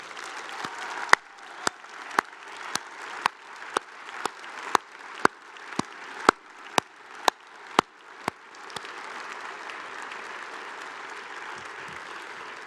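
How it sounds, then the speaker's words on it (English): Applause from an awards ceremony audience for a team at the Space Technology Hall of Fame, with a steady bed of clapping and a series of sharp, regular percussive hits standing out over it before they stop and the clapping carries on. "So please join me in a round of applause for my phenomenal"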